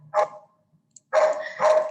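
A nearby dog lets out a single bark, then after a short silence two more barks in quick succession, fairly loud and close during a home-based online session.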